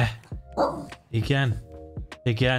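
A dog barks several times close by, short sharp yips between bouts of a person talking.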